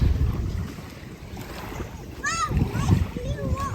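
Waves wash and splash on a black sand beach in Davao against a steady wind rumble on the microphone, with a person's voice briefly audible partway through.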